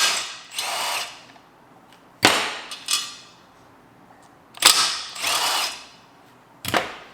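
Bursts of tool noise come from loosening original BBS wheel bolts with a 12.8 mm socket, likely an impact or power driver, in four separate whirring runs of about a second each with quiet gaps between them.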